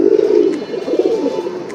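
A pair of pigeons in a home loft, a brown-necked male with a mottled female, gives close, loud throaty coos that roll on continuously, swelling and dipping in a steady rhythm with no other sound.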